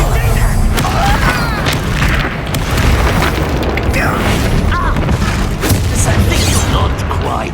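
Bombarda spell explosions in the video game Hogwarts Legacy, loud booming blasts layered over dense battle noise and mechanical clatter, with a voice shouting throughout.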